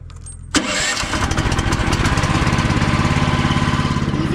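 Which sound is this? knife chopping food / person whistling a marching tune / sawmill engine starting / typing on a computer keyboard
sawmill engine starting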